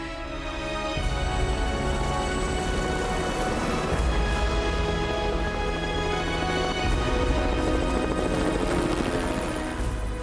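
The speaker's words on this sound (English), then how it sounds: "The helicopter rushes Sonia and Marnie to safety" A helicopter flies close overhead in a rescue from a cliff, its rotor throbbing in a loud, steady, continuous drone throughout with no voices.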